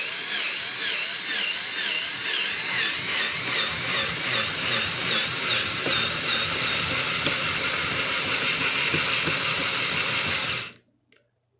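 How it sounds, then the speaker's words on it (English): An electric drill spins a homemade gear model, giving a steady loud whirring, hissing grind with a clattering undertone that runs for about ten seconds and then cuts off abruptly. "I'm going to use this electric drill here to power it."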